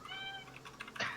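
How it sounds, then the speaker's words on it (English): A cat meows once, a short tonal call up close, with faint clicking like keyboard typing underneath and a brief burst of noise at the end. "That's a cat."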